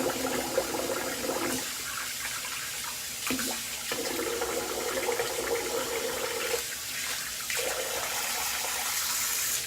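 Hot tap water runs steadily into a hotel bathroom sink, a continuous hissing splash with brief shifts in tone where the flow is interrupted or redirected.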